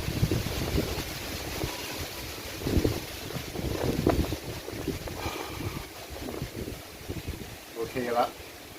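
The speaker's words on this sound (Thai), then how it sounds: "ลมแรงมากเลย" Strong wind blows across an outdoor spot, roaring and buffeting the microphone in uneven gusts that rise and fall, with faint voices partly buried beneath the rush.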